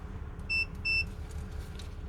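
A multimeter continuity tester on a door switch of a 2005-2010 Honda Odyssey with a stuck sliding door (code B2038) gives two short, clear, high electronic beeps in quick succession over a low background hum.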